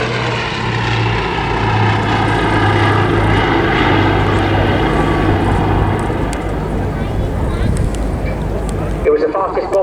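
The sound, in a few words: Bristol Blenheim bomber propeller engines at airshow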